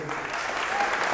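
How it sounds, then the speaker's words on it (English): An audience breaks into a dense, steady round of applause at a tech startup's beta launch event as the community lead is called onstage. The clapping is loud and continuous, with a voice faintly mixed in. "Everyone say round of applause to"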